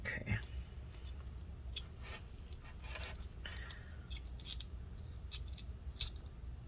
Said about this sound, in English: There's no easy way to get this adhesive off. I just gotta keep scraping it.